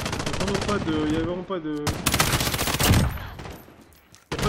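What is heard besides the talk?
M13 rifle gunfire in video game Call of Duty Modern Warfare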